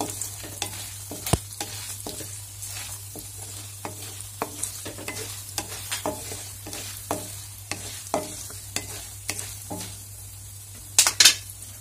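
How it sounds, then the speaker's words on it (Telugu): Peanuts and lentils fry in a pan, giving a steady soft sizzle under repeated scraping and clinking stirs of a spoon against the pan, with a sharper metallic clatter near the end. No one speaks. "పల్లీలు ఇవన్నీ కలిపి కొంచెం కలర్ మారేంత వరకు ఫ్రై చేసుకోవాలి."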